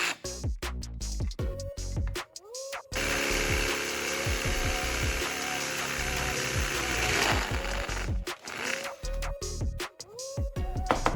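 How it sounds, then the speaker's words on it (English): A power drill whines steadily while boring holes into the metal of an empty spray paint can, with clicks and handling clatter before and after the sustained drilling. "I use a drill to make 2 holes exactly at the points where the indentations were created earlier."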